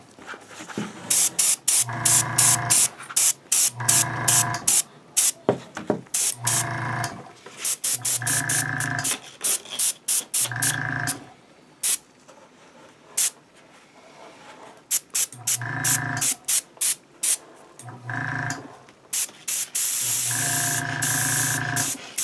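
An airbrush spray gun shading a Star Wars B-Wing pilot helmet prop gives short repeated hissing bursts of varying length, loud and close, with gaps between blasts.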